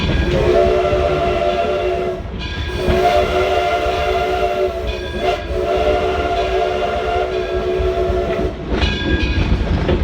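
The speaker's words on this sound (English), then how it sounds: "The historic locomotive pulling us today is the Edison #1." The historic Edison #1 locomotive pulling a train at Greenfield Village near Smith Creek station, heard from aboard as a loud, steady rolling rumble with sustained whistle-like tones that drop out briefly and return.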